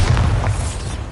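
A Bombarda spell blast in Hogwarts Legacy lands as one deep, loud, rumbling boom that fills the moment and fades slowly, with no voices over it.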